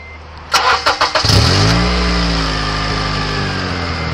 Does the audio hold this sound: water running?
no